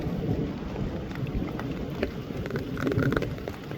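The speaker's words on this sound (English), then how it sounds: "Ooh, it's raining. It's coming down." Rain falls steadily with scattered close drips while a low thunder rumble rolls underneath, forming a continuous, moderately loud storm without speech.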